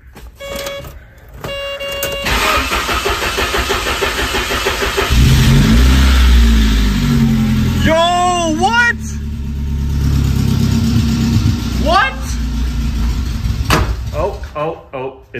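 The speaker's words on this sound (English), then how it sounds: "I turned the key a couple times and it started to crank" A Saab car's engine cranks while someone keeps turning the key; the starter churns unevenly and the motor tries to catch with rough, revving surges, close and loud, broken by short clicks and electronic chimes.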